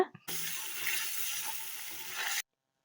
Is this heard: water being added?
yes